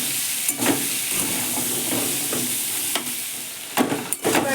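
Potatoes fry in oil with a dusting of turmeric, giving a steady, close sizzling hiss broken by a few clattering stirs of the pan; no one speaks.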